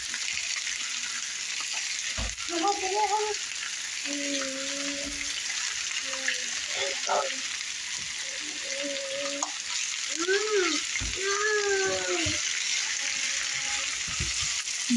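Food browning in a hot frying pan gives a steady, bright sizzle and crackle throughout, while someone talks over it at intervals.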